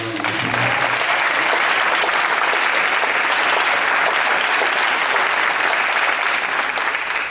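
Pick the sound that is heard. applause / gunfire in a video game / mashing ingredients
applause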